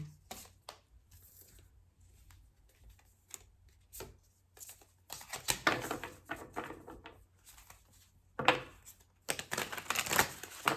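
Sticky playing cards are handled, shuffled and flicked in crisp papery bursts and riffles, quiet at first and then louder and denser toward the end, with no voices.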